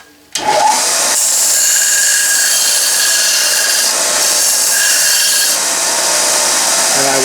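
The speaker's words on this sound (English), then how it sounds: "I'm just going to take it to the little sander here and round this end" A small sander grinds the end of a brass piece round for a vertical steam engine build, a loud, continuous abrasive roar that starts abruptly after a brief lull and holds steady throughout.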